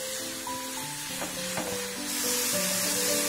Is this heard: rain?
no